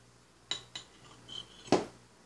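A knife cuts a soft, fluffy cake made from raw rice on a plate, several light metallic clinks and scrapes, the last one louder, in a quiet room.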